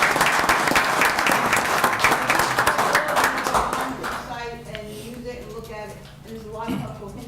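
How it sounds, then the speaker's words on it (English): Applause from a township council meeting audience, a dense round of clapping that fades after about four seconds as a voice starts speaking over the tail. "maybe we can just give Joe one more round of applause"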